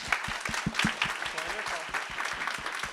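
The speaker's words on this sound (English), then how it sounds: "let's give a round of applause" An audience claps at the close of a final panel discussion at a conference, a steady wash of hands with distinct individual claps, while voices murmur faintly underneath.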